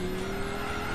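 A race car at full throttle in Gran Turismo 6, a classic sports car engine holding a steady high-revving drone with a sustained tonal whine, loud and continuous over the brief moment.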